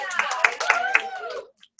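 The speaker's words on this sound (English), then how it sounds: "Big round of applause for Anna." A few people clapping at a directors' meeting, sparse and uneven hand claps mixed with voices before they stop abruptly into near silence.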